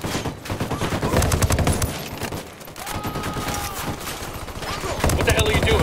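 Rapid bursts of automatic gunfire crackle in a video game battle, loud and near, with overlapping volleys that continue across the whole stretch and short pauses between bursts.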